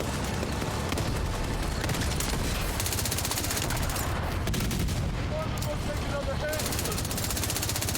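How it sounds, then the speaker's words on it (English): Rapid gunfire and explosive grenade blasts crackle densely through a shooter video game battle, continuous and loud, with a voice talking over the action. "Yeah, I'm using grenades a lot more on this guy."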